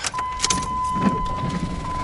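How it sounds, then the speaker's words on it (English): A car's power window is raised with a steady motor whir that runs continuously for about two seconds, close and fairly loud inside the vehicle, with no talking. "Oh, I should have probably put my window up."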